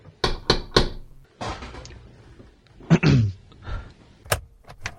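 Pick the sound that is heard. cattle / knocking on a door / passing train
knocking on a door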